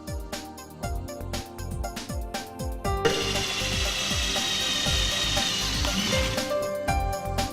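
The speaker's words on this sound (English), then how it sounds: "Mark the exact spot and drill the holes" A power drill whines steadily into a metal manifold for about three seconds, preceded by a series of short, rhythmic mechanical clicks and bursts, close and fairly loud.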